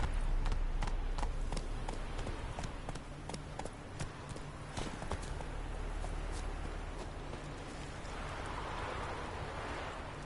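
Roach, the horse in The Witcher 3, gallops in a quick, steady run of hoofbeats over a soft ambient wash that grows slightly hissy toward the end, with no voices.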